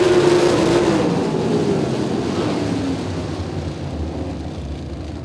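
410 sprint cars racing at Lincoln Speedway, a loud engine howl sweeping past and fading into a dense, distant roar of the pack circling the dirt oval.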